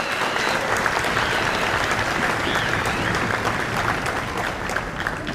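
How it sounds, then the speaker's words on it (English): Steady applause fills an elementary school spring concert hall for two young percussionists, a full crowd clapping loudly and evenly throughout. "Let's just give a little round of applause for our 2 percussionists"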